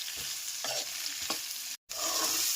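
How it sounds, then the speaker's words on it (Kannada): Capsicum and onion frying in oil in a pan, with a steady sizzle and a few stirring scrapes, close and loud, briefly cut to silence near the end. "ಆ ಈರುಳ್ಳಿನ ಇವಾಗ ನಾನು ಒಂದು ಬಾಣಲಿಗೆ ಎರಡು ಎಣ್ಣೆನ ಹಾಕ್ಬಿಟ್ಟು ಕ್ಯಾಪ್ಸಿಕಮ್ ಆ್ಯಂಡ್ ಈರುಳ್ಳಿನ ಫ್ರೈ ಮಾಡ್ಕೊತೀನಿ"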